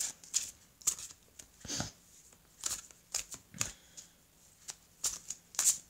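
Tarot cards shuffled by hand during a reading, a series of quick riffling bursts with crisp snaps, close and moderately loud, no talking.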